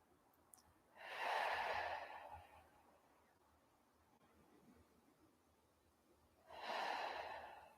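Two deep breaths taken while holding the palms out to the sides during an energy exercise: a long, airy inhale-exhale near the start, a quiet pause, then a second one at the end, close and clear with no talk.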